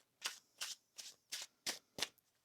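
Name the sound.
shuffling tarot cards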